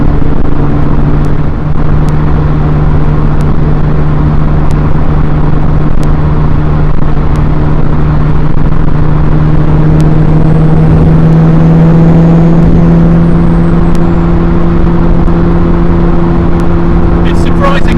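A Ferrari F40 twin-turbo V8 engine droning steadily while cruising, a loud sustained low hum, with someone talking over it throughout.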